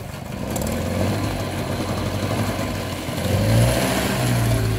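An MBK 51 moped engine keeps running steadily after starting, a close, continuous mid-pitched putter that swells slightly in revs near the end, with no talking.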